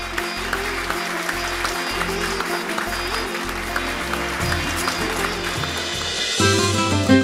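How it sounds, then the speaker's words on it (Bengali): A studio audience gives loud, sustained clapping as a singing contest names its first finalist, with music pulsing beneath the applause. "এটা জোরে হাততালি"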